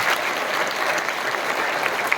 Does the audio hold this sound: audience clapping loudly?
yes